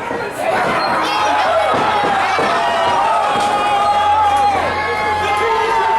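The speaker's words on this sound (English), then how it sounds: "This crowd is loving it" Wrestling show crowd cheering loudly and steadily through the whole stretch, with shouting voices and the odd thump from the ring mixed in.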